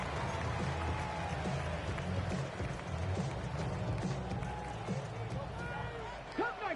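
Stadium crowd noise from Madden 26, the American football video game: a steady, loud roar of many voices holding through the whole stretch with a few brief swells.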